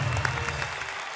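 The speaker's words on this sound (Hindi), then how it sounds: "जोरदार तालियों से हम स्वागत करें।" A crowd at a Hindi poetry show claps briefly to welcome the poet Surya Kumar Pandey from Lucknow; the applause is steady and moderately loud for about a second.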